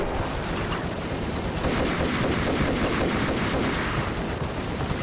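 Max Payne video game gunfire rattles out as rapid, repeated shots over a dense, continuous wash of action noise, steady and fairly loud throughout.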